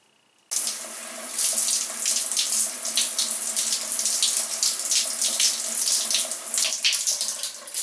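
Water runs steadily from a tap while an almond marshmallow hair masque is rinsed out, starting abruptly and flowing loud and close with splashy fluctuations throughout.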